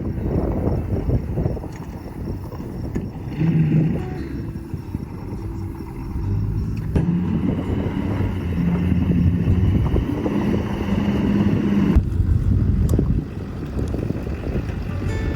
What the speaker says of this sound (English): is going to repark the truck for me to make my life easier.